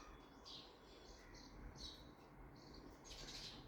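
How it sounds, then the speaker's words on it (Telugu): Sparrows chirp and call for food, a dense chorus of high repeated tweets rising in bursts over a steady background hum, fairly close and continuous throughout. "అరిసి అరిసి అరిసి పిలుస్తాయి."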